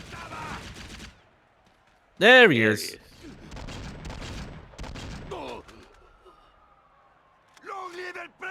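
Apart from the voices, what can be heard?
gunfire in a video game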